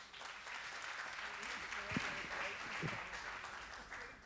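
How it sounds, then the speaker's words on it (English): Audience applause for sponsors and guests at a winner-crowning event, a steady wash of clapping from a crowd across the whole stretch, moderately loud, with a few low thumps or voices underneath. "Round of applause,"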